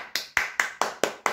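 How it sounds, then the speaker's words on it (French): A single person claps hands alone, seven crisp, evenly spaced claps in quick succession, close and moderately loud. "Je t'applaudis, ma petite mamie!"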